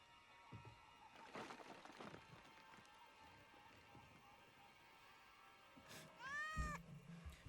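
A cat in the video game Indiana Jones and the Great Circle lets out a short, clear meow near the end, heard after a stretch of quiet footsteps and faint ambient game sounds.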